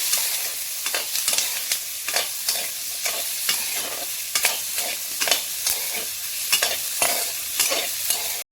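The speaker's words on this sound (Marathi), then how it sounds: "थोडं तेल टाकून याला 5 मिनिट भाजून घेऊ" Spice masala roasting in a little oil in a pan for palak paneer: a continuous close sizzle broken by regular scraping strokes of a spatula, with no voices.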